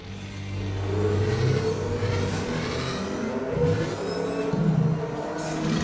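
Racing vehicle engines in the animated series Star Wars: The Clone Wars whine and rev loudly, their pitch climbing and falling as the machines accelerate past, with no talking over them.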